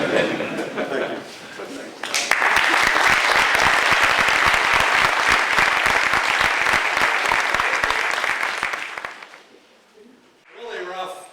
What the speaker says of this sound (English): organic chemistry lectures are sprinkled with applause like that.